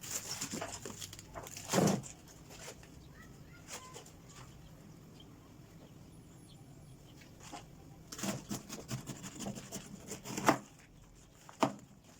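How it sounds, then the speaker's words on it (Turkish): A knife chops through crisp cabbage on a board in a few short bursts, with quiet pauses between them. "Bir tane orta boy lahanamızın Bıçak yardımıyla ortasındaki sert kısmını çıkartıyoruz."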